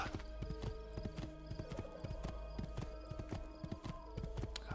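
Steady clip-clop of horse hooves trotting at a brisk, even rhythm over continuous game music in Assassin's Creed 2, with no talking.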